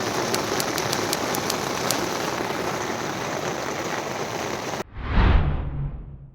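Steady rain patters densely on a campsite on the Har Ki Doon trek in Garhwal, Uttarakhand, for several seconds, then cuts off abruptly, followed by a short low rumbling whoosh.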